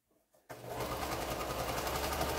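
A sewing machine stitches the last piece of a quilt block, starting after a brief pause and then running steadily at a fast, even hum for about two seconds, close and loud, with no talking over it.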